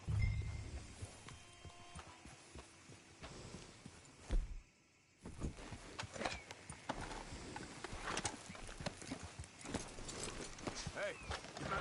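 Horse hooves clop at a walking pace in Red Dead Redemption 2, soft and fairly close, with a brief pause partway through and a low outdoor background.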